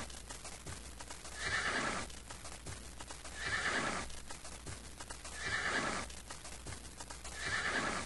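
Horses neigh in the Might & Magic VI video game, four repeated loud whinnies at even intervals over continuous clip-clop hoofbeats and background noise.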